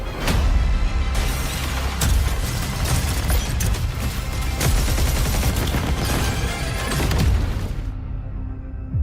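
Gunfire and a rocket launcher in a video game advertisement, loud chaotic rapid shots and booming blasts firing continuously for several seconds before cutting off abruptly.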